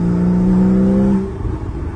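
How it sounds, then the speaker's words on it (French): A Porsche engine revving under acceleration, a loud steady tone that cuts off after about a second into a lower rumble, alone without voices. "vous faire une petite accélération, simplement pour entendre le bruit"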